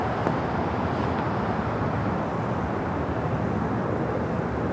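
A super jumbo airliner departs at LAX airport, producing a loud, sustained broadband jet roar that holds steady throughout with no voices over it.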